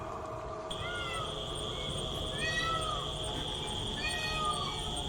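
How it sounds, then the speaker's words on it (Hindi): Animal calls cut through a steady outdoor hiss: a long whining cry followed by several rising, meow-like yowls at a moderate distance. "उल्टा जंगली जानवरों की आवाज आना शुरू हो गई"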